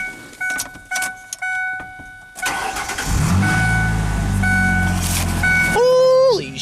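A Ford car engine cranks and catches, then settles into a loud, steady run close by, with faint keys and clinks beforehand and a rising tone near the end.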